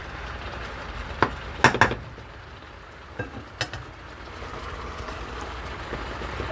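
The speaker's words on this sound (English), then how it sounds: "Mix it gently because you don't want your egg to be little tiny pieces." A utensil stirs eggs gently in a pan over a soft sizzle, with a few scattered scrapes and clinks against the metal.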